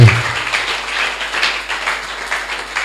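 A church congregation at a Sunday service in a mission-day worship applauds the Lord, with sustained, fairly loud clapping from many people, heard alone.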